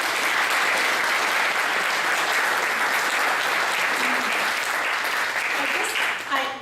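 Sustained audience applause and clapping at a poetry reading honouring literacy tutors, loud and steady for several seconds before tapering off at the end.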